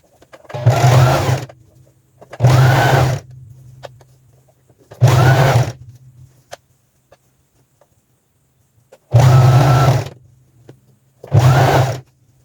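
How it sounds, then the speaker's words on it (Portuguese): A sewing machine stitches the elastic waistband of a pair of trousers in five loud, close bursts of steady whirring, each lasting about a second, with quiet pauses between them. "Eu vou passar uma costura aqui no cantinho para prender esse elástico."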